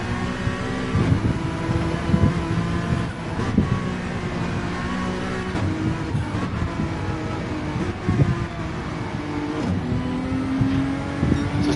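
Ferrari race cars accelerate around the Deep Forest circuit in a racing video game, with engine whine rising and falling through gear changes, steady and fairly loud, plus wind rush.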